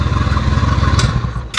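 A TVS Ntorq 125cc scooter engine with a worn crank bearing runs steadily close by, giving a continuous low mechanical drone with a rattling clatter, briefly interrupted by a short hiss near the end.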